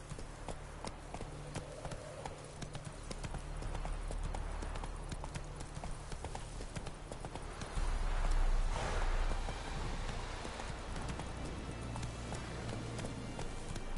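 Roach, a horse in The Witcher 3, gallops along at a steady, quick clip-clop of hooves over quiet ambient game sound, with a brief louder thud partway through.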